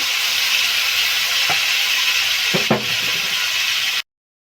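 Spice paste hits hot oil for a pointed gourd curry, giving a loud, steady sizzle and hiss close up, with a few spoon scrapes partway through before it cuts off.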